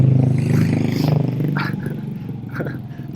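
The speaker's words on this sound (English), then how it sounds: "Some Honda Vario that's either with a custom exhaust or someone's taken the baffler out." A loud Honda Vario scooter with a custom or de-baffled exhaust, heard close by on a road in Bali as a steady, rough engine drone lasting several seconds with no talk.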